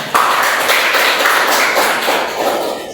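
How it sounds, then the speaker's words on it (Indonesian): A classroom of students bursts into applause, a dense, even patter of many hands clapping close by for a few seconds, with no talking. "Tepuk tangan semua."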